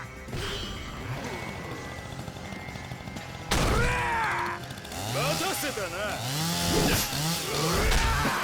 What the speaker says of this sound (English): Where'd you get a chainsaw?